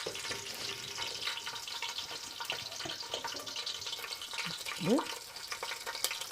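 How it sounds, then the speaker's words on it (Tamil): Garlic cloves, about ten, sizzle in hot ghee for ghee rice, a steady frying crackle with stirring and a faint tap of water, while a person talks over it. "அதில் இப்போ நம்ம பூண்டு ஒரு 10 பல் பூண்டு போட்டுக்கலாம்."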